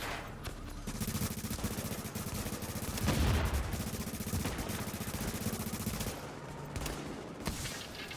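Gunfire in the video game The Division, a dense sustained barrage of rapid shots with heavier bursts, loud and continuous across the whole stretch.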